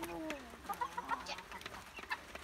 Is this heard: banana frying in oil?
no